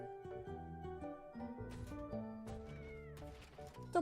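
A cat in the video game Wuthering Waves meows several times over a steady layer of game music, the cries close and clear, ending on a louder final call.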